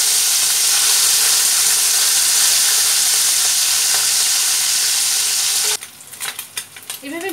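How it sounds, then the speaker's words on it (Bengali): Mourala fish fry in hot oil with a loud, constant sizzle for several seconds, then the hiss drops away into quieter crackles and small clinks near the end. "গরম হয়ে গেলে মাছগুলো, খুব বেশি মাছ দেব না, অল্প অল্প করে মাছ দেব, দিয়ে লাল করে ভেজে নেব।"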